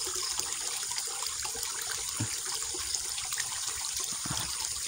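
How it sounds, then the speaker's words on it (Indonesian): Spring water trickles inside a cave, a steady, faint, close babbling flow with occasional soft drips and no talking. "Sumber mata air. Itu air yang di situ bisa langsung diminum ya."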